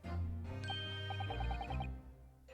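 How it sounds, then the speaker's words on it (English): A short run of bright, bell-like tinkles rings out in the Great Ace Attorney game, about eight quick chiming notes in a row over a low background hum, fairly clear and close. "Very veritable tinkling of a bell."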